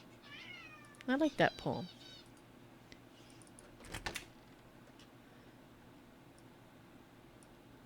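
A cat meows indoors, several loud close meows in a quick cluster early on, then a shorter burst of calls a few seconds later, with someone speaking briefly over a quiet room.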